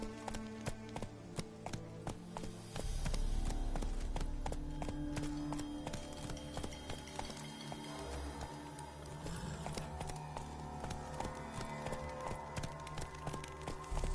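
Roach, Geralt's horse in The Witcher 3, gallops in a steady, loud rhythm of hoofbeats beneath layered game music and ambient noise, continuing without a break across the whole stretch.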